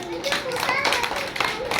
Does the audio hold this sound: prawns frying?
no